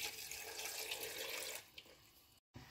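Water splashes and streams in a steady hiss for a couple of seconds, then thins to a few drips before stopping.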